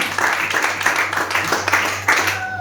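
A church congregation claps and applauds the Lord in a dense, rhythmic burst of hands, loud and close, over a faint hum.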